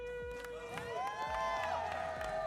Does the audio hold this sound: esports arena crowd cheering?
yes